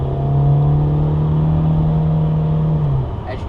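A 1999 Volkswagen Beetle GLS with the 2.0 engine accelerating, a loud droning engine note that holds steady and then drops off as the gear changes, heard from inside the car.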